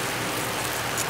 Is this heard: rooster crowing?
no